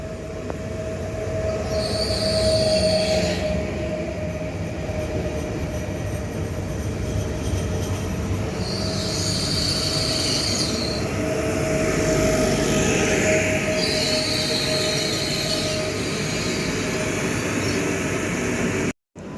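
A train rumbles steadily past at close range at Goczałkowice-Zdrój station, Poland, with a sustained tonal whine and recurring high-pitched wheel squeals rising and fading over the continuous roar.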